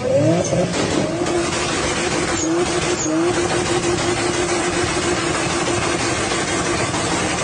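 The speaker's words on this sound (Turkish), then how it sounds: "Bir de 4 çeker All Wheel Drive gerçek GTR'ın lastik yakmasına bakalım." An all-wheel-drive Nissan GT-R does a burnout, its engine revving hard and holding a steady high drone while the tyres spin and squeal continuously, loud and close.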